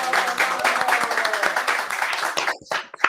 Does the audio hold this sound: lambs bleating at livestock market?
no